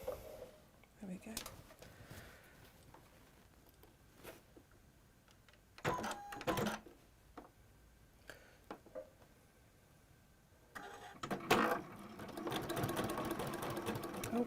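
A sewing machine fitted with a walking foot runs in short clunky bursts and then a longer run near the end. The bursts are separated by quiet pauses, and someone speaks quietly between them.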